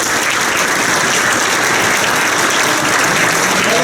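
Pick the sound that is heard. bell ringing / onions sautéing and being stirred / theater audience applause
theater audience applause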